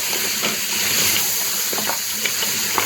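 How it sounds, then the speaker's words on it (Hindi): Mutton trotters fry with chopped tomatoes and spices in a pan, a continuous loud crackling sizzle with soft stirring scrapes and occasional pops, close up and without talk. "इसके साथ ही हम ऐड कर देंगे अपने कटे हुए टमाटर। इन सब चीज़ों को डाल के हमें अच्छी तरह से भून लेना है।"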